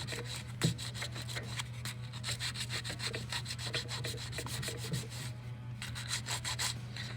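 A ring is sanded with 220 grit sandpaper in quick repeated one-directional strokes, a faint rhythmic scratchy rubbing heard alone.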